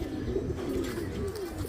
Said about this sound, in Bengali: এটা একটা নর কবুতর, ঠিক আছে?